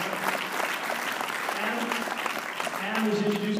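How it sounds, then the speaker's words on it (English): Audience applause for Adam Kokesh at a Libertarian convention, steady dense clapping sustained throughout with a faint voice speaking underneath. "So let's have another round of applause for Adam,"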